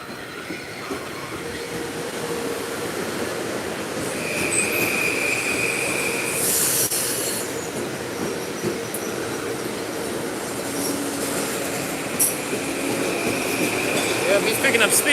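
A train rolls through Fordham station at restricted speed, its wheels squealing loudly over a continuous rumble of rail noise, with a high screech rising midway and rail clatter throughout.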